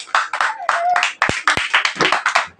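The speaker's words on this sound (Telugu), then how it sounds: "క్లాప్స్ కొట్టండి అందరూ" Schoolchildren clap their hands in a classroom, a quick run of around a dozen close, sharp claps with slightly uneven timing.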